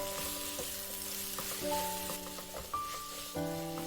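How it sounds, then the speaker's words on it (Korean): Garlic scapes, onion and fish cake stir-fry in oil in a pan, a soft, faint sizzle and occasional scraping heard beneath light background music. "마늘종을 넣고 1분 볶고 양파와 어묵을 넣고 더 볶아줍니다"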